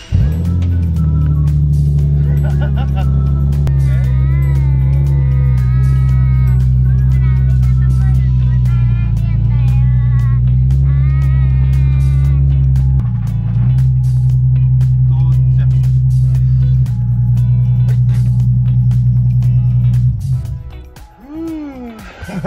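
A Nissan Skyline engine starts in a home garage and settles into a loud, steady low idle close by, with a few brief voices over it before the engine cuts off near the end.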